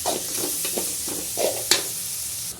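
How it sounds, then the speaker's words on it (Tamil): Finely chopped small onions sizzle and fry in hot oil in a pan, with a steady close sizzle and several scraping stirs of a spoon. "இப்போ வெங்காயம் வதங்கிட்டுருக்கு."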